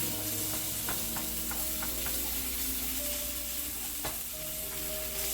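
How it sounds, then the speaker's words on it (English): Steady frying sizzle of tomato puree in a pan, crackling evenly throughout with a few light ticks and scrapes of stirring. "Ooh, that sizzling sound."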